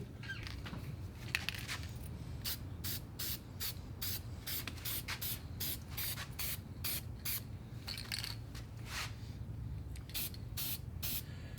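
A spray can hisses in short, rhythmic bursts while painting the wheel of a 1970 Pontiac Grand Prix. There are more than a dozen quick, even sprays with brief gaps between them, close and moderately loud, and no talking.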